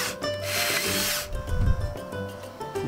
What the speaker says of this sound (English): we're going to take the 3/4-inch bit again, and we're going to drill a hole